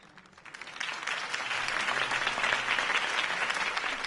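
Crowd applause after a political campaign speech, swelling from quiet to a sustained, dense roar of clapping from a large gathering.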